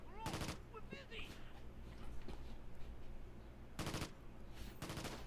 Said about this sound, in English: there's definitely some gunfire going on, some machine gun fire